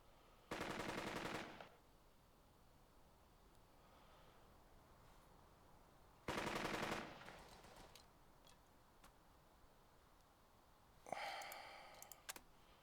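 Machine gun fire in the Burden of Command video game: two separate bursts of rapid automatic fire about six seconds apart, fairly faint, with a quieter rattling flurry near the end over low background noise.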